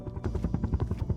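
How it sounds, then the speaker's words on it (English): A helicopter's rotor in the Roblox game Project A.R.E.S chops in a fast, steady pulse with a low engine drone, close and fairly loud. "there's a helicopter on this map. It is in this corner. You could hear it right now."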